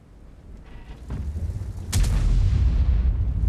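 Tank cannon fire in World of Tanks rings out as one heavy boom near the two-second mark, followed by a deep sustained rumble, with no talk over it.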